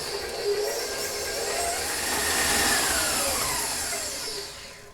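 A hand mixer whirs steadily while creaming white and brown sugar for gluten-free whoopie pies, a close, even buzzing drone that swells slightly in the middle.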